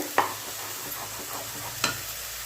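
Poppy seeds, melon seeds, ginger and green chilli fry in oil in a pan with a faint, steady sizzle, broken by two brief scraping stirs of a spoon.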